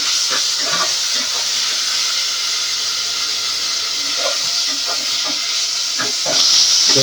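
Vegetables tossed into hot oil for an egg curry with a little ginger-garlic paste give a steady, loud hiss of frying with scattered crackles and spits that swell toward the end.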